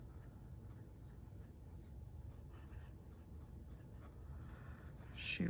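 Pen nib scratching softly across paper as a Sailor Pro Gear Slim fountain pen with a medium fine nib writes in short, quiet strokes, ending in a brief louder scrape.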